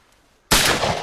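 Pigeon-shooting gunfire cuts in abruptly after near silence, a sharp loud blast whose dense broadband roar rings on through the rest of the moment.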